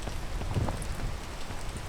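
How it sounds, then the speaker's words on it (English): Video game rain falls as a steady broadband hiss throughout, with a few soft low thumps underneath and no talking. "Oh, the rain. The rain."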